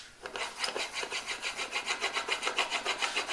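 A blade scrapes back and forth on a whetstone in quick, even rasping swipes, close up and steady with no voices.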